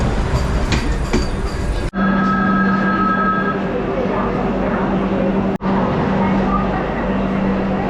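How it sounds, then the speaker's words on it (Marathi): A Vande Bharat train on the Konkan railway passes close and loud, a continuous rushing roar with rail clatter and a steady hum, with a voice speaking over it. "डब्याची गाडी वंदे भारत."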